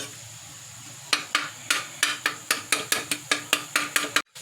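Minced beef keema being mixed with yogurt in a pan on a tawa, heard as a regular series of sharp spoon or spatula knocks against the metal, about a dozen evenly spaced strikes over a faint sizzle.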